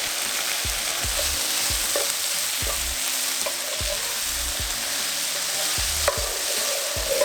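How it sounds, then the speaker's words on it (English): Celery stir-fries in a pan with shallots, garlic, soy sauce, oyster sauce and sugar for a Korean side dish, giving a loud, steady, close sizzle with a regular scrape-and-toss rhythm running throughout, with no talking. "we're going to cook this until the celery becomes a little translucent and a little bit more flimsy, not as structured"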